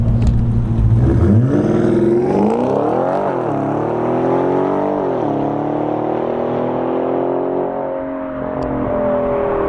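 A loud car engine with straight-pipe exhaust and downpipes revs hard, pitch climbing through gear shifts with a raw, unmuffled exhaust roar close by.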